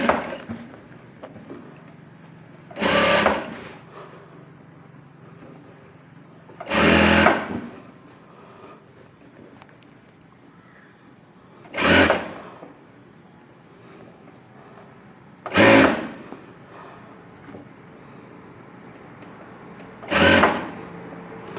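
A tailor's sewing machine stitches a buff sleeve in five short bursts, each whirring run lasting about a second and separated by quiet pauses of several seconds.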